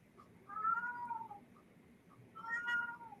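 A cat gives two distinct, fairly soft meows, spaced about two seconds apart, against a quiet indoor background.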